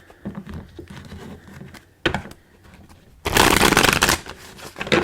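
An oracle card deck is shuffled by hand, a rapid burst of riffling card patter near and loud, followed by softer card handling and rustling.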